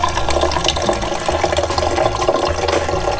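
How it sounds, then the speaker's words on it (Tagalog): Warm water poured into or rinsed through a Nespresso Vertuo coffee machine, a loud, close, continuous splashing gush lasting a few seconds. "Rinse with warm water."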